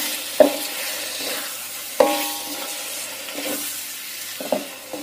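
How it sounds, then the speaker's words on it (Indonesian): Beef being stirred with spices in a pan for a brothy dish: steady low sizzle with sharp scraping clacks of a spoon against the pan at intervals, close and fairly quiet, no talking. "Masukkan daging sapinya. Kita aduk dengan bumbu sampai bercampur rata."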